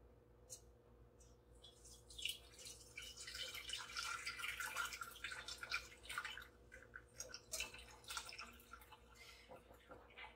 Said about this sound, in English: And carefully pour my brine through the sieve